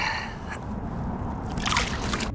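A mirror carp is released into open water with a steady slosh and a brief splash close by, set against constant outdoor noise.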